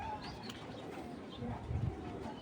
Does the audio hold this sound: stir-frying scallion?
no